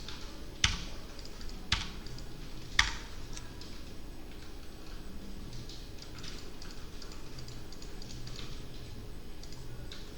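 Keys tapped on a computer keyboard, including the F9 key: a few sharp, louder presses early on, then steady soft clicking nearby.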